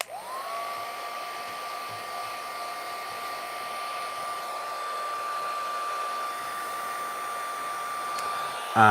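A heat tool blowing hot air from underneath gives a loud, steady whooshing whine that rises to speed at the start and then holds constant, close and alone.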